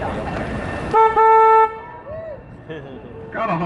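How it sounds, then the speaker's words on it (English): A river tour boat's horn on the San Antonio River gives a loud, steady honk lasting under a second, followed by a quieter boat sound, with a guide talking before and after. "Got a honk on one here"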